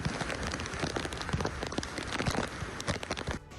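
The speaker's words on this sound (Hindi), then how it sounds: "बारिश का दौर जारी है।" Heavy rain falling in Gujarat during a monsoon downpour, a dense continuous hiss of drops striking surfaces, loud and close throughout with no voices, easing slightly at the very end.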